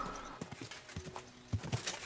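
Quick clopping hoofbeats of a horse in the video game Kingdom Come: Deliverance II, in an uneven rhythm, with a couple of heavier thuds near the end as it jumps, fairly quiet against a faint background.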